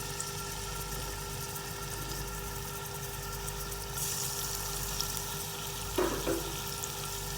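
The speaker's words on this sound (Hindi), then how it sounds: "अब मैं इन्हें हल्का सा फ्राई करूँगी।" Chopped garlic and ginger fry lightly in hot oil for a restaurant-style chicken Schezwan soup, giving a steady low sizzle over a constant hum, with a short spatter of stirring near the end.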